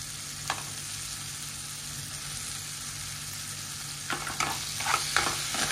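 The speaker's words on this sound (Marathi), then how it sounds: "वाटण मिक्स करू पूर्ण." Ground masala paste being stirred into small crabs frying in oil, an Aagri-style dish: a steady background sizzle, then a few scraping stirs of a utensil near the end.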